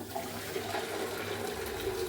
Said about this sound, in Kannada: ಈ ಥರ ಹೋಲ್ ಇದೆಯಲ್ಲ ಈ ಥರ ಪಾತ್ರೆಗೆ ಇದಕ್ಕೆ ಹಾಕ್ಕೊಳ್ತೀನಿ ಕಟ್ಟನ್ನ ಬಸ್ಕೊಳ್ತಾ ಇದ್ದೀನಿ